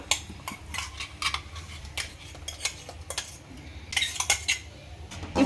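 Cashew-almond paste being stirred into a thick sugar mixture in a pan for a summer sweet, with a spoon scraping and clinking against the metal in irregular bursts, close and moderately loud, no talking.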